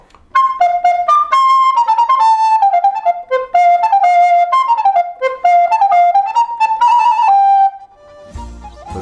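An Elody electric recorder is played unamplified in a traditional early-music style, a clear, breathy solo melody of quick stepwise notes that continues for several seconds and ends with a short clattering handling noise.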